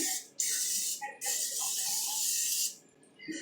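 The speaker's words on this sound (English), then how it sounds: "That way I can just spray down all my chicken." Two long hissing bursts from an olive oil aerosol spray, close by, the second longer than the first, with quiet gaps and faint clinks around them.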